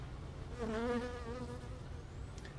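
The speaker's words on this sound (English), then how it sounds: "hive that was so packed with bees on the front" Honey bees buzz around a hive packed with bees, a faint, close hum with one bee's whine rising and falling as it passes by.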